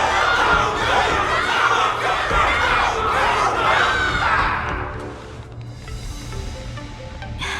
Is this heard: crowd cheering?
yes